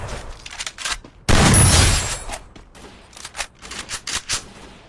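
Gunfire in an island battle video game, a loud dense burst of rapid shots around the middle, followed by scattered fainter shots and clicks, with no voices.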